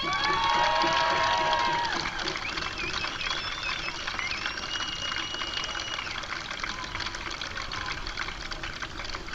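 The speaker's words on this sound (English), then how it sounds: "Huge round of applause for both the teams" A crowd at a Little League state championship grand final applauds and cheers for both teams, a steady wash of clapping and cheering with whistles and raised voices rising over it, loudest at the start.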